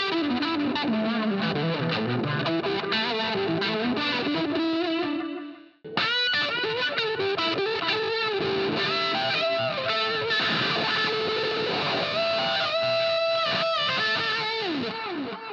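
Electric guitar runs through a simple delay pedal, each phrase trailing repeating echoes over a distorted, chorus-tinged tone; playing is steady and loud, with a brief drop to near silence before resuming with busier lines.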